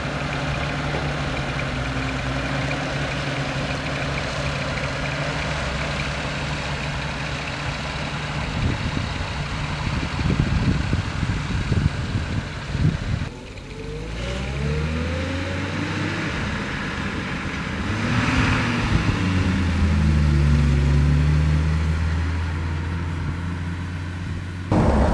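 A 1934 Mercedes 290 Cabriolet D runs while being driven, its engine giving a steady low drone that swells and shifts pitch through gear changes midway, with no voices over it.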